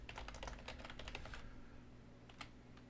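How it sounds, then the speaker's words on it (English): Rapid typing on a computer keyboard, a dense run of clicky keystrokes for about a second and a half, then quiet with a few isolated taps near the end, close and fairly soft. "I'm just going to type"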